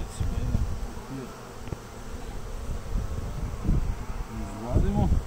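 Honeybees buzz around an open DB beehive during inspection, a steady droning hum with louder swells as bees pass close. A person talks intermittently over the buzzing.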